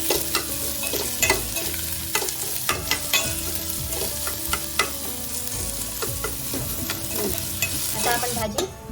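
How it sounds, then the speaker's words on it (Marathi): Onion frying in tempering oil for bharangi bhaji, a wild leafy vegetable dish, gives a steady close sizzle broken by repeated scraping stirs of the spoon, with no talking. "आता मी कांदा फोडणीला टाकला आहे, तो कांदा आपण पारदर्शक परतून घेऊया."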